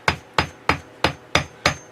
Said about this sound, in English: take this hammer and just keep striking that paper